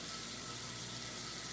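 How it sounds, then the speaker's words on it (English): Water runs in a steady, even stream into a water filter, a constant close hiss with no talk. "I'm gonna add some water back to my filter"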